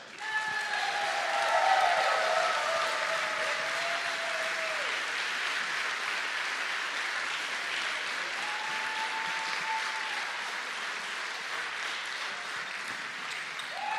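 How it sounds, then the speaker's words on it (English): Sustained applause from an event audience honoring the staff at a 2016 Swordfish tournament, a dense steady wash of many hands clapping that stays fairly level for the full length, with faint tones and voices threaded underneath. "a big round of applause for all the people who's been working very hard for this event"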